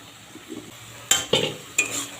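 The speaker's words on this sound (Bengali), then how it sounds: "আলুটা দিয়েও একটু ভেজে নেবো এইভাবে একটু নেড়ে চেড়ে মিশিয়ে দিলাম" Potatoes being stirred in a frying pan: a soft sizzle underneath, then three sharp scraping clinks of a utensil against the pan, close and fairly quiet.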